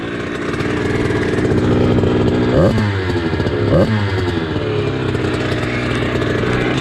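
A restricted Rieju 80 Airsal motorbike engine runs loud and close with a buzzy, rattly two-stroke tone, rising and falling through a couple of quick revs around the middle before settling back to a steady drone.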